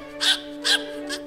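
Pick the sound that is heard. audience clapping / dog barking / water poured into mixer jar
dog barking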